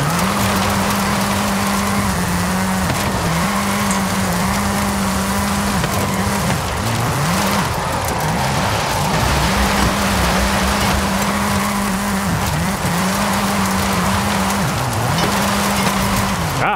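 A Corvette C8 Z06 or Pontiac Belvedere in the Forza racing game drones loudly and steadily throughout, its engine pitch rising and dropping with each gear change.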